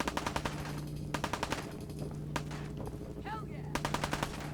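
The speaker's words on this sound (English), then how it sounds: "The laser musket's probably one of my favorite weapons in this game." Laser musket shots in the game Fallout 4: rapid repeated sharp zapping cracks in quick bursts over a steady electronic hum, with a brief whirring sweep between volleys, close and loud.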